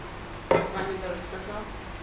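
A kitchen bowl set down with a sharp knock, then a short ringing clink of dishes that fades over a couple of seconds.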